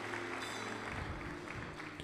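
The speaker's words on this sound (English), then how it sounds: "Give God a hand clap of praise." A church congregation claps in praise at a ministry service, a dense, steady burst of applause from many hands that lasts about two seconds.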